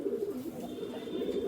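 Fancy pigeons cooing close by at a pigeon keeper's home, a soft continuous low burbling of several birds.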